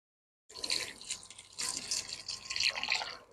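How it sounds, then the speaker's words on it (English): Two cups of milk poured into cornbread dressing, a soft splashing, trickling stream that starts abruptly, briefly eases, then resumes close by and fairly quiet. "Next, I'm going to pour in 2 cups of milk."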